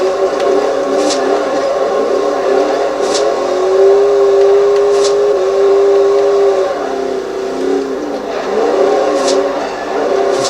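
A Ford Mustang Cobra engine in Forza Horizon 2 holds a steady, fairly loud drone while driving in fourth gear, its pitch shifting slightly as it cruises, with faint higher whines and a few brief tonal blips over the top.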